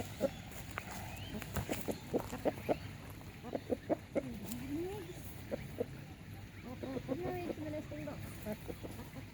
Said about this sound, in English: I have a bit of a nasty rooster in this one.